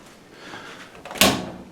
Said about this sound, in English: We can easily test that by opening the door of the dryer.